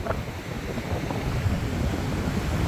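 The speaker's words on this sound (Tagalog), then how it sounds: "Lakas ang hangin. Yung alon, kaya yung alon. Yung hangin lang talaga malakas." Strong wind roars across an open microphone at sea aboard a boat, with waves surging and splashing underneath in a constant, heavy rush of noise and no voices.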